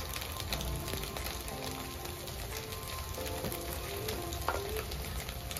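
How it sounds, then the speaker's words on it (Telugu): Egg with ginger and garlic sizzles in a pan, a steady close frying crackle broken by scraping stirs of a utensil against the metal, no talk. "కొంచెం అల్లం వెల్లిపాయ ఎగ్ ఇట్లా కొద్దిగా ఫ్రై అయిన తర్వాత"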